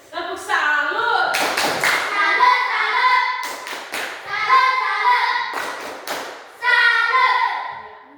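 Classroom students doing a rhythmic salute clap, sharp clustered claps in repeated patterns between chanted voices of children, close and lively.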